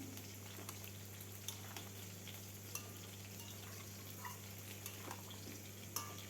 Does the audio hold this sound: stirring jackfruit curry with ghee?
yes